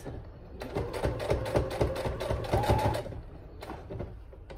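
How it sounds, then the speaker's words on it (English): A domestic sewing machine runs a straight seam across a fabric bag piece, its steady rapid needle chatter close and fairly quiet. The stitching stops briefly before one last short burst. "Okay, now we're gonna sew straight across"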